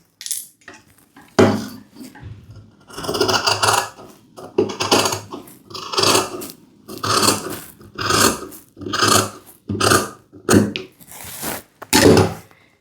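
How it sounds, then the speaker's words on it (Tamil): Scissors snip through blouse fabric to shape the armhole, a close series of rhythmic crunching cuts with short pauses between strokes, no talking. "இப்போ இதை கட் பண்ணி எடுக்கணும்."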